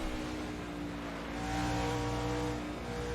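A NASCAR stock car engine drones steadily on throttle in the Assetto Corsa racing game at Riverside, a loud sustained roar with rising pitch and faint tire noise, no voices over it.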